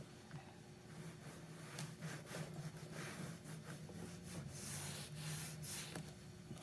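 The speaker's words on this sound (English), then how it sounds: "I'm gonna rub this into the leather as best I can." Steady back-and-forth rubbing of a pad into the leather of an RCA 3-BX-671 radio case, a soft scratchy friction in repeated strokes, close and fairly quiet.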